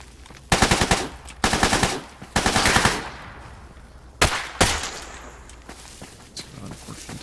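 Gunfire in S.T.A.L.K.E.R. GAMMA: several sharp bursts of automatic fire, loud and close, then two heavier single shots and fainter distant pops, with no talk over them.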